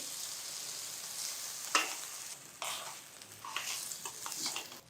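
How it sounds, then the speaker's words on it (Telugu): Rice fries in ghee with saffron-soaked milk poured in, stirred over low heat for a sweet Kashmiri pulao; a steady soft sizzle with broadband hiss, broken by sharper bursts as the milk hits the pan and the spoon scrapes. "కొద్దిగా పాలు పోస్తూ కలిసేలాగా వేయించుకోవాలి"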